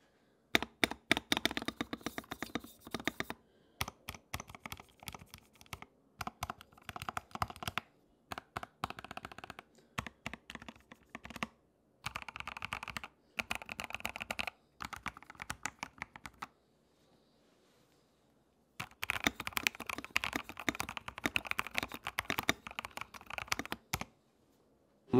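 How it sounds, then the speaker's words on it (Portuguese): Stock EPOMAKER TH80 75% mechanical keyboard, factory unmodified, typed on in steady rapid bursts of clacky keystrokes separated by short pauses, close and alone with no talking. "agora eu quero que vocês ouçam o teste de som desse cara pra vocês verem como que ele soa,"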